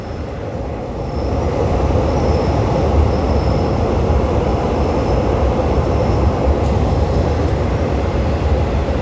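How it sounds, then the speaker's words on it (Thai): A Red Line electric commuter train rolls past near Bang Sue Junction in Bangkok with a steady, loud rumble of wheels on rail that holds for the whole stretch, and no talking. "ด้านขวามีรถไฟฟ้าสายสีแดงออกมาหนึ่งขบวน"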